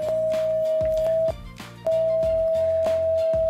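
Electronic eye color sensor sounding a steady tone for purple, heard via bone conduction, a sustained pure pitch with a brief gap, laid over busy background music.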